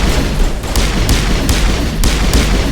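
Rapid bursts of video game gunfire from guards in a shooter, loud and dense, with repeated sharp booms spaced through a continuous rumble of battle.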